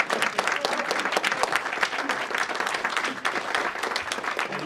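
An audience at a Holodomor exhibit event at Trinity Church in Melrose applauds with full, continuous clapping that runs from start to finish at a lively, fairly even level.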